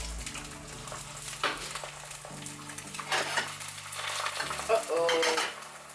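An egg fries in a pan, a continuous sizzle and crackle with occasional scrapes and clinks of a utensil stirring against the pan, close and moderately quiet, with a faint tonal hum underneath.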